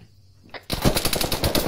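Sudden loud automatic gunfire erupts after a quiet moment during a combat engagement, rapid close bursts continuing to the end.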